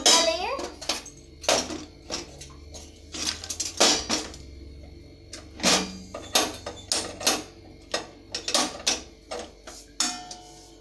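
Ice being dropped into a container, heard as a series of hard clinks and rattles scattered irregularly across the clip and close by, with a child and an adult talking in between.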